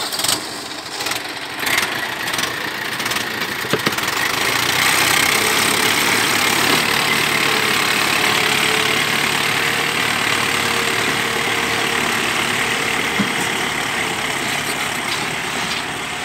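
An HMT 5911 tractor engine runs steadily at idle, a loud, continuous diesel rumble close by that holds an even throb for the whole stretch, with no voices over it.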